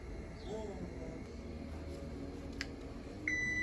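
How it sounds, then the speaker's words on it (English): A kitchen timer starts beeping near the end, a thin electronic tone cutting in over a steady background hum of a home kitchen. "the timer has gone off"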